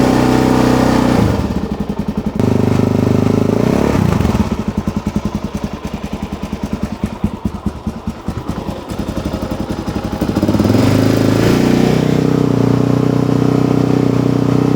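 A Suzuki DRZ motorcycle engine idles on choke while warming up, a steady loud close-up thrum with a choppier, uneven patch in the middle before the smooth running returns.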